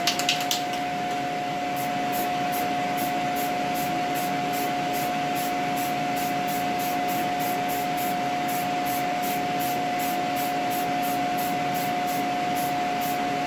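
Rust-Oleum spray paint hisses onto a Guitar Hero guitar faceplate in a steady, close, continuous spray with a faint pulsing rhythm, alone with no voices.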